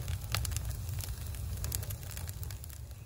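A campfire of small pruned tree twigs and brushwood burns outdoors on a warm October day in Krasnodar region, giving scattered sharp crackles and pops over a continuous low rumble.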